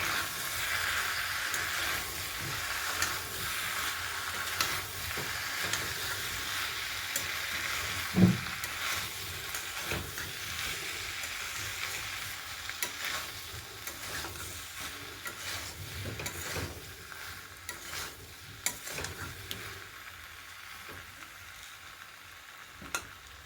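Potato and elephant foot yam pieces fry in oil for an ol chingri curry, a steady sizzling hiss with occasional scraping and stirring knocks throughout, no talk.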